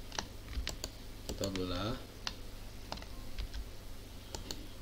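Computer keyboard keys tapped while building a 3D helmet model, with a few crisp clicks scattered under someone speaking Indonesian.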